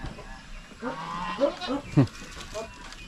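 Goats in their pen give a few short, nasal bleats about a second apart over a quiet farmyard background, with faint speech in the mix.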